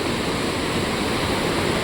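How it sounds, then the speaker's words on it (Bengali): The Rangit river, muddy after a heavy downpour, rushes past in a steady broadband roar of flowing water, continuous and unbroken throughout. "রঙ্গিত রিভার বয়ে যাচ্ছে"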